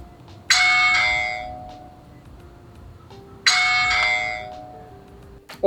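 A BOTSLAB video doorbell chime rings twice, each a bright two-tone ding-dong that lingers and fades, with quiet pauses between.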